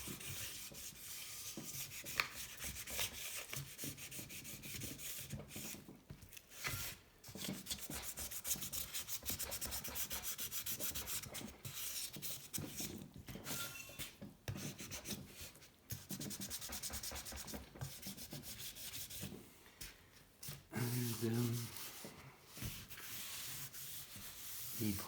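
Sanding on a 1984 Honda C70 Cub engine case: continuous abrasive rubbing strokes with brief pauses, close and fairly loud, with no talk.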